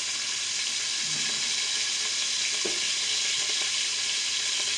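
Beef browns in olive oil in an Instant Pot with a steady, loud, close sizzle and hiss throughout, along with a few faint stirring clicks, with no talking.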